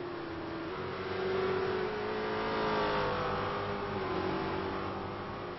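A race car at Watkins Glen engine drones steadily through a turn, a sustained loud tone that swells slightly mid-pass, with no talk over it.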